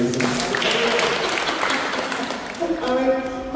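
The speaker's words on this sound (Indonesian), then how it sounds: "Haleluya, tepuk tangan untuk Tuhan Yesus." A church congregation at a worship service claps for Jesus, steady applause running throughout with voices mixed in underneath.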